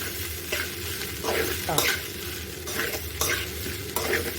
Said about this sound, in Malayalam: തേങ്ങ കൂടെ ഇട്ട് നമുക്ക് ഇളക്കി കൊടുക്കാം